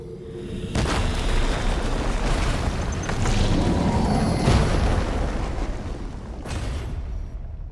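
The Enigma gun's special ability in Remnant 2 sets off heavy booming blasts with a sustained rumbling roar and several sharp bursts, loud and close, with no talk.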